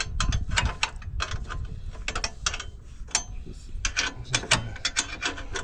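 A hand ratchet snugging up a 14 mm bolt while fitting an aftermarket rear bumper on a Polaris UTV, giving bursts of rapid clicking close up with some metallic rubbing between strokes.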